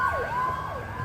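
A Hatzolah emergency ambulance siren wails nearby, its rising and falling tone sweeping loudly through a short burst with no talking.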